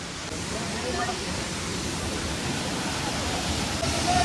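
Waterfall at Apsarakonda Falls near Honnavar, a loud, steady rushing roar of falling water that continues unbroken throughout, with no clear talk over it.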